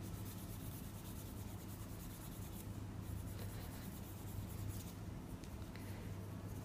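A fingernail is buffed to strip semi-permanent polish, giving a steady, close scratchy rubbing that carries on without a break and sits over a low hum. It is faint and nobody speaks.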